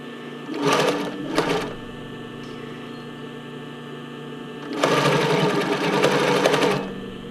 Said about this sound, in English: you can stitch pretty much right on top of the other one or do it right next to it